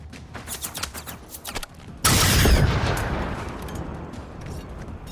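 Heavy gunfire from the video game Generation Zero: a loud, dense burst of shots erupts partway through, rolling into a sustained roar and slowly fading, preceded by quieter scattered clicks and movement.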